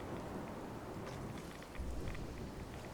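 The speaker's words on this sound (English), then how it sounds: "The storm is pretty intense." A video game thunderstorm: dense, steady rain hisses throughout, while a low rumble of thunder swells near the middle, fairly quiet overall and with no one talking.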